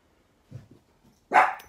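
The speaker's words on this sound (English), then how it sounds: "is nothing like a barky little dachshund" A small dachshund gives one sharp, loud bark close by, preceded by a few faint low grumbles and soft sounds in an otherwise quiet space.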